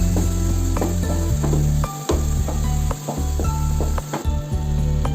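Beetroot pickle mixture cooking in a pan, sizzling steadily and loudly while a spoon stirs and scrapes through it in uneven strokes, with occasional clinks against the pan.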